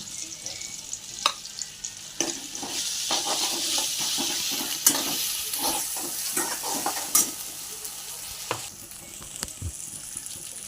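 Ginger-garlic paste sizzles steadily in a pan for a prawn curry, with scattered stirring scrapes and clinks over a continuous frying hiss, close and moderately loud.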